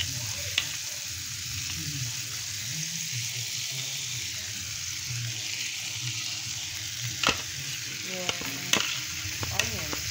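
Garlic fries in butter in a pan for a creamy garlic pasta, giving a steady close sizzle with a few sharp utensil clinks near the end and no talk.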